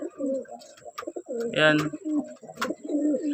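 Homing pigeons coo on arriving back at their loft, low throaty burbles repeating through the stretch, close by, with a brief wing clap or flutter midway and someone talking over them.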